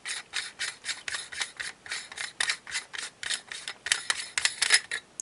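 Threaded section of a Mir-20M camera lens being unscrewed by hand, giving a steady series of short, close, dry scraping rasps in an even rhythm, with no talk.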